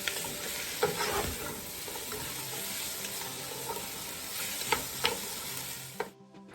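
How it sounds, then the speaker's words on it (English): Chopped onions sauté in olive oil, giving a continuous close sizzle with occasional stirring scrapes and clicks before the sound cuts off abruptly at the end. "Saute for 1 minute until it becomes translucent."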